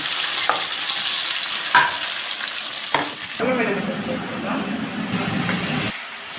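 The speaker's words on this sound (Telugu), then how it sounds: "ఇది వేగిన తర్వాత అల్లం వెల్లుల్లి పేస్ట్ వేసుకున్నాం" Ginger garlic paste fries in a hot pan, loud crackling sizzle punctuated by several sharp spatula clanks and scrapes, the frying surging after each stir, with a pause near the end.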